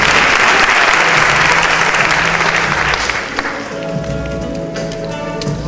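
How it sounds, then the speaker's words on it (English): An audience applauds the judges at a pageant coronation, loud sustained clapping that thins out partway through as the hall settles, with a low hum of crowd noise under it. "Please give them another nice round of applause"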